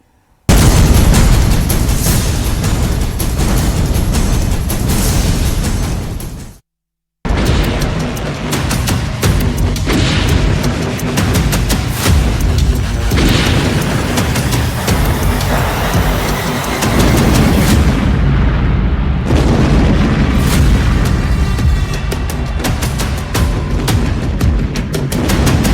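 Missile strikes hitting Iranian radar and missile launch pads on Qeshm Island, heard as a long stretch of loud, continuous blasting, rumbling and crackling debris, broken by one brief silent gap, with no voices.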